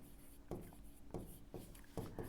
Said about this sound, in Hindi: यहाँ पर पॉइंट बना के लिखते हैं